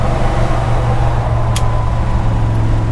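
A 1961 Pontiac Catalina with a 421 V8 and four-speed manual drones steadily after a downshift, a loud, even low rumble held close throughout with one brief high tick partway.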